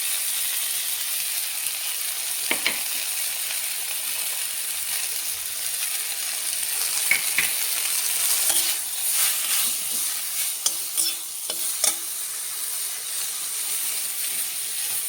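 Ingredients frying lightly in oil in a pan give a soft, steady hiss, with a few faint stirring scrapes and clinks scattered through the later part and no talking.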